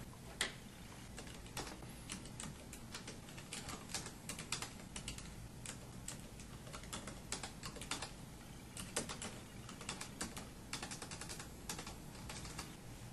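Fingers type a command on a computer keyboard, an irregular run of quick, light keystroke clicks, close and quiet, continuing for about thirteen seconds with no speech.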